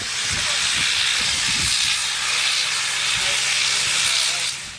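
A steam locomotive on the Rigi rack railway hisses steadily and loudly throughout, broad and close, with some low knocks and mechanical thumps beneath the hiss.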